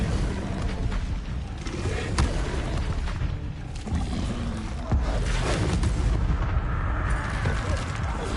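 A fire spell cast in Hogwarts Legacy during a spell duel gives a dense, continuous roaring burst with sharp booming cracks scattered throughout, loud and close, over a busy game-combat bed.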